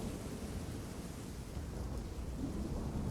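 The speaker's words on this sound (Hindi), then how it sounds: "दोबारा वही तूफान।" A thunderstorm rumbles with deep, continuous thunder and a steady wash of heavy rain, dense and even throughout with no voices.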